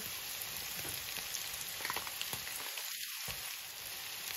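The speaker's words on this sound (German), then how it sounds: "Jetzt kommt das Tomatenmark in die Pfanne." A steady sizzle of tomato paste frying in a pan, with light scraping taps and a brief lull near the end.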